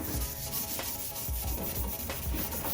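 Coarse abrasive scrubbing of rust off a rusted kart axle, a continuous rasping rub with steady back-and-forth strokes, close and fairly loud.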